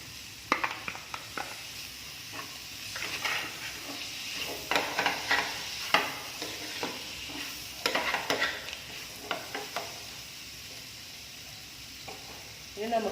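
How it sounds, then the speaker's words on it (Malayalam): Curry leaves and coriander leaves fry in a hot pan while being stirred for a spicy chicken cake, with a continuous sizzle broken by frequent sharp scrapes and clinks of the spoon against the pan, close up. "ഇനി നമ്മുടെ കറിവേപ്പിലയും മല്ലിയിലയും ഇട്ട് കൊടുക്കാം"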